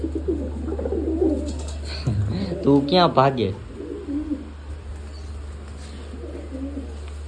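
A large, high-priced pigeon coos in low, rolling calls while someone speaks nearby, his voice rising over the birds in the middle of the stretch.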